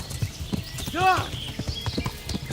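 Horse hooves clip-clop at a quick, uneven pace in the medieval game Kingdom Come: Deliverance, with a brief whinny partway through and a voice speaking over the hoofbeats.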